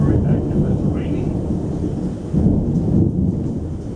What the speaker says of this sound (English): Thunderstorms are very, very active. It's raining.